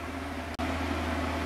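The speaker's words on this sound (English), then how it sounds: "So sorry for the loud noise from the fan," Loud fan blowing air inside a garage during truck work, a steady close hum with broadband rush and a brief dropout midway.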